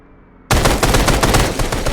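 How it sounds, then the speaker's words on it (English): Sudden heavy burst of rifle and grenade fire in Arma 3 combat, rapid loud shots in a dense, continuous volley after a brief quiet start. "And now we engage with rifle and grenade fire."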